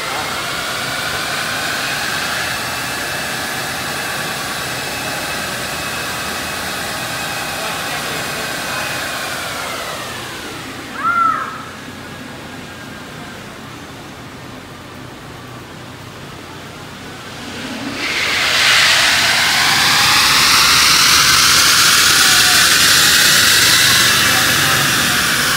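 A Tesla Model 3 electric car runs hard on a dynamometer, giving a loud, steady high-pitched whine and rush that falls away near the middle, then rises again to full strength toward the end, with a brief sharp sound at the dip.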